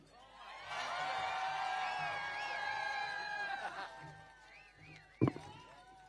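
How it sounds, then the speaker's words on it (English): A political rally crowd whoops and cheers loudly, with a dense mass of shouts and whistles through the first few seconds before fading, then a sharp burst near the end. "you're going to want to give her a major round of applause"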